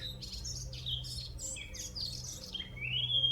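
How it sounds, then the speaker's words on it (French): Birds singing outdoors, with bright overlapping chirps and warbling trills, close and clear over a low steady background hum, continuing through the whole stretch without talk. "Connecté au chant des oiseaux, fraîcheur de l'atmosphère"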